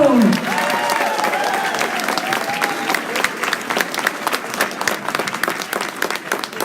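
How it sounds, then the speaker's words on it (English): A crowd at a political campaign rally in Macomb breaks into strong applause, a dense wash of clapping with some cheering that stays loud and steady, lightly thinning toward the end, with a brief voice at the start. "Give them a round of applause, Macomb."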